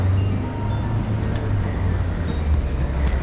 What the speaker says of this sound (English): police and an army truck.